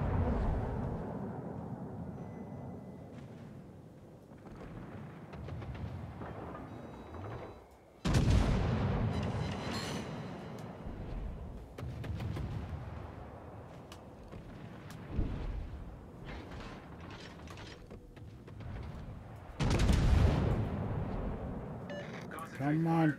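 Heavy booming launches and blasts from naval combat in the video game World of Warships, with loud bursts near 8 and 20 seconds over a continuous rumbling battle bed; someone talks throughout.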